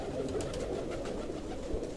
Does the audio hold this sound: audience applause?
no